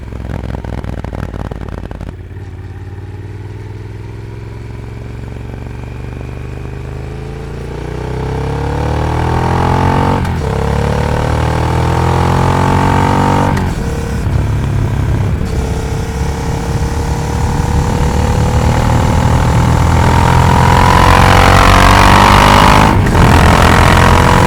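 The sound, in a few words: motorcycle riding recorded on test setup, with wind noise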